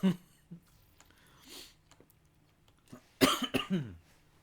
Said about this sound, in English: I coughed onto the microphone.